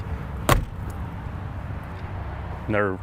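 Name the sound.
horse trailer living quarters windows opening and closing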